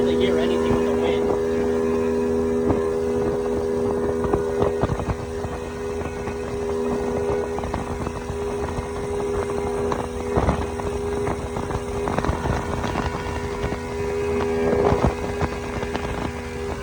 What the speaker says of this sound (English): They're not able to hear anything with the wind.